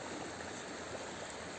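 The Černý potok creek rushes and burbles in a steady, unbroken wash of flowing water, close by and filling the scene without pause.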